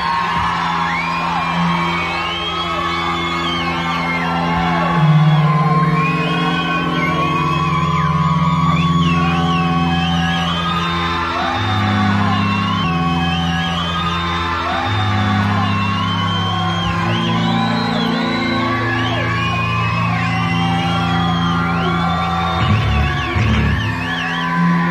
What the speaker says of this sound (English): An incredible crowd tonight.